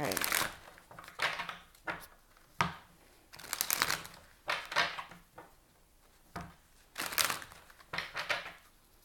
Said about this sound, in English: I'm going to go ahead and pull a Romance Angel Oracle card